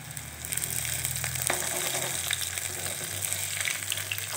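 Banana flower pakoras frying in hot oil give a continuous close sizzle and crackle with some bubbling, a few louder pops here and there, and no voices.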